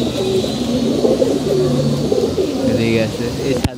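Pigeons on a rooftop coo softly and repeatedly, some of the birds sick with a cold, the low cooing running under nearby talk, ending with a sharp click.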